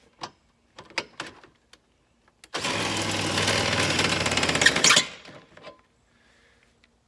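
A cordless drill with a bit raises travel trailer jack stands, a loud steady whirring run of about two and a half seconds, preceded and followed by scattered clicks and clanks.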